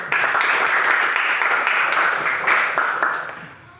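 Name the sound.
class applauding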